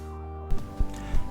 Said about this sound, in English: I'm just cutting out the shapes on the bandsaw